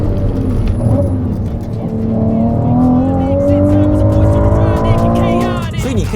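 A Ferrari 296 GTB, an 830 hp V6 plug-in hybrid supercar, drives hard on a race track in Spain, its engine note climbing loud and steady through the gears, with a brief tire squeal.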